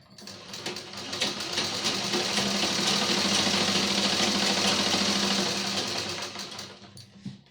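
A sewing machine stitches a market bag in one continuous loud run, a dense mechanical whir that rises quickly, holds for several seconds and tapers off.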